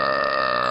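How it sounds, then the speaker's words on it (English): A single deep, sustained belch rumbles loud and steady from start to finish, with no other sounds around it. "A deep belch which lasted around 20 seconds and echoed through the woodland"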